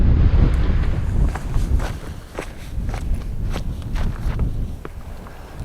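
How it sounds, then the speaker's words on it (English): Strong gusting wind of about 40 mph buffets the microphone on a hiking trail marked by stacked flat rocks in Canyonlands' Needles District, with footsteps crunching steadily beneath the loud, continuous roar. "It can't get any windier. It's blowing 40 easy."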